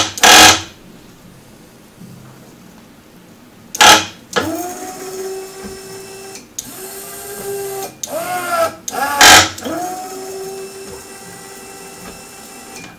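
A die press clanks down onto a substrate in several loud, separate mechanical strokes, with whirring and grinding tones between them, recorded close by.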